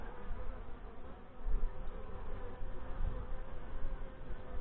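Honey bees buzz densely and continuously around an open hive during an inspection, a close, droning hum that swells and dips slightly as bees move past.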